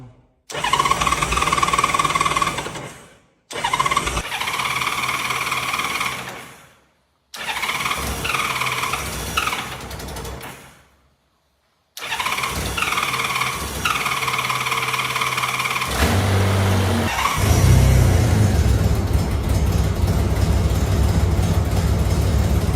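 A restored Honda Gold Wing motorcycle cranks with a squealing starter in three short bursts separated by pauses, then catches and runs, its engine revving up loudly near the end.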